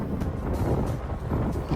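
Strong wind buffets the microphone during an outdoor bike ride in Japan, a steady, loud low rumble that lasts the whole moment with no voices.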